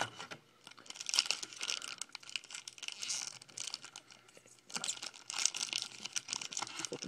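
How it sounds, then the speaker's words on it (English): Foil trading card pack for 2011 Upper Deck SP Authentic football cards being torn open by hand, bursts of sharp crinkling and tearing rustles separated by short pauses, close and moderately quiet. "These are tough packs to open."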